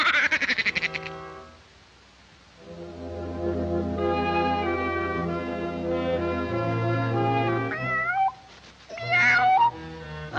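A cartoon cat meows repeatedly in Woody Woodpecker, drawn-out and insistent cries at close range, with a short pause near the start and no talking.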